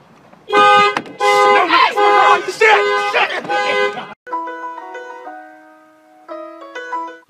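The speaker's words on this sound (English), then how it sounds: "My car alarm goes off and I suddenly feel like a criminal." A car alarm blares in loud repeated honking blasts, followed by a quieter stretch of sustained electronic tones that change pitch step by step.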